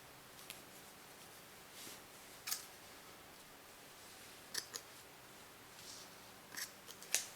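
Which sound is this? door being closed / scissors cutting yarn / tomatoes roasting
scissors cutting yarn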